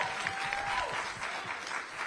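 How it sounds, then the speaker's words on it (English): An audience at a public policy forum applauds, brief steady clapping from a crowd with a faint tone running underneath. "can we all applaud Melanie Campbell for her leadership?"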